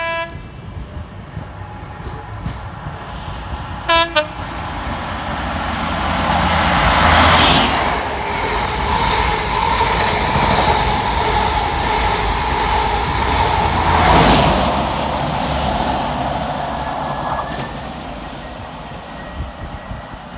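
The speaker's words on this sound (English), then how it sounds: "A special appearance now from the Midland Pullman in the form of 43049 and 43058" A Midland Pullman set led by power cars 43049 and 43058 passes through Barnt Green station, a loud sustained rumble swelling and fading, with a brief horn sounding early on.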